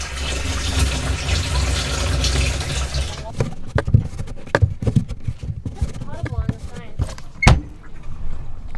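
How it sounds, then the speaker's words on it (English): A coin-operated water fill station at a large Volkswagen festival runs with steady broadband rushing and gushing for about three seconds, then cuts off, leaving clatter, knocks and people talking nearby. "It's a very interesting water fill station here."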